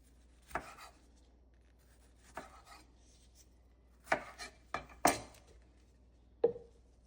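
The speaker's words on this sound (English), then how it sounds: "So we need some of the tomatoes on the side, so I'm going to slice some of them." A knife slices tomatoes on a board in a quiet room, giving about six separate, irregular cutting strokes, each a short crisp chop with pauses between them.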